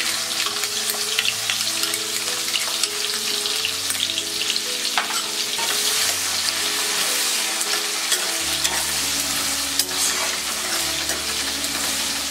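Onions frying in a pan, with a continuous close sizzle and crackle for over ten seconds, alongside a soft background hum.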